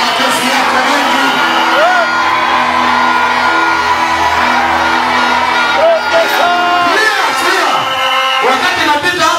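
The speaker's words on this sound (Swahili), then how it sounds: "Sasa makofi yako mengi." A church congregation at a Sunday service cheers loudly, with whoops and shouts from a dense crowd under continuous clamor and a voice over the noise throughout.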